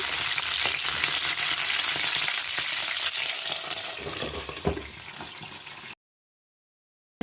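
Brinjal (vankaya) fry sizzles steadily in a pan with occasional scraping stirs, a dense close frying hiss that runs for about six seconds and then cuts to silence.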